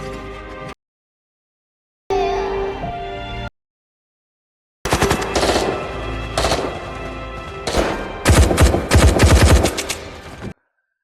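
Bursts of rapid machine-gun fire and single gunshots in an action film scene, loud and close, broken by short silent gaps and swelling into dense volleys near the end.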